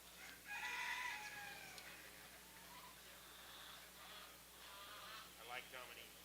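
Dominique chickens cluck, with a crow mixed in, from the poultry pens at a county fair show, heard faint and distant through a noisy hall while people talk nearby.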